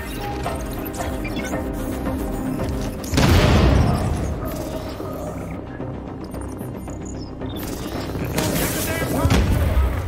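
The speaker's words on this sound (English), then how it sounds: "Alert. EMP blasts are inbound." EMP blast explosions in a sci-fi shooter game: heavy booming bursts over a steady bed of gunfire and mechanical noise, with a loud impact near the start and another swell toward the end.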